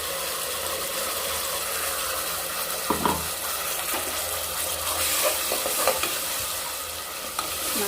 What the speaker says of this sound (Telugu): ఇప్పుడు ఆయిల్లోకి ముందుగా రుబ్బి పెట్టుకున్నటువంటి మసాలాను వేసుకుంటున్నాను.